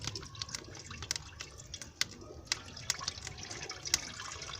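Water poured into a pan holding desi ghee for rice-flour pinni, a quiet steady trickle with small drips and splashy ticks scattered throughout, close and soft.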